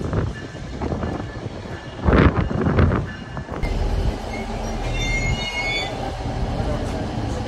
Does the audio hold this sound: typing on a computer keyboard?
no